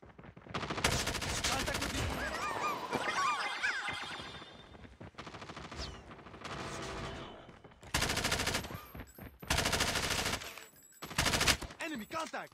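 Automatic gunfire from Call of Duty Mobile in a 3v3 match, loud sustained machine-gun bursts separated by short pauses, with in-game voice callouts between volleys.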